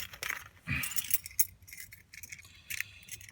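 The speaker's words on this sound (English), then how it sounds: "Oh, drop the keys." A bunch of car keys for a 1993 Buick Roadmaster jingle and clatter as they are dropped, with a heavy jangle near the start and smaller rattles that follow, close and alone.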